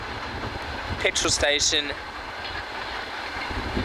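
Train rumbling along railway tracks beside a petrol station in Kazakhstan near the Russian border, a steady low roar with a brief burst of brighter clatter, while a voice speaks over it.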